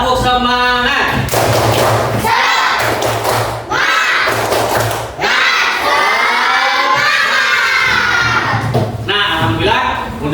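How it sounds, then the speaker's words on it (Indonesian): A fourth-grade class of schoolchildren performs the tepuk semangat clapping chant, with loud rhythmic claps broken up by shouted, sung chant phrases from the group in several bursts. "Nah, seluruhnya tepuk semangat."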